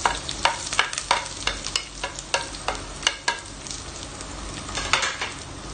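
Onion, chili and garlic frying together in a pan, with a continuous close sizzle broken by repeated sharp scraping strokes of a spoon stirring, no voices.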